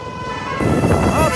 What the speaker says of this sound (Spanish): ahí viene una ambulancia